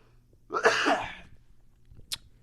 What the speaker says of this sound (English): No, it was a cough.